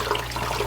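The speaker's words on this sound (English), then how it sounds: "Sucking the water that's in the hose out." Water being drawn out of a pond pump hose by a running sink, a brief steady gurgling rush with a low hum beneath.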